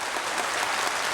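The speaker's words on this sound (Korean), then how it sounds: "저희가 그럼 축하의 박수를 드려야지요" A studio audience breaks into dense, steady applause, filling the space evenly at a moderate level, to congratulate two brothers reunited after some forty years on a 1983 KBS Korean broadcast for separated families.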